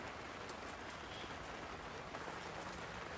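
Heavy rain at a winter campsite on New Year's Eve, a low, even hiss of drops hitting surfaces with occasional louder splats, soft and constant and free of speech.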